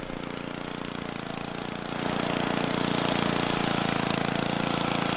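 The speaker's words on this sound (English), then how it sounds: "Man in a mower." Lawn mower engine from the Happy Wheels video game character riding a mower, a steady buzzing mid-pitched drone that grows louder and rougher partway through and keeps running alone.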